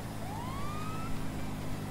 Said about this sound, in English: I'm gonna turn the siren off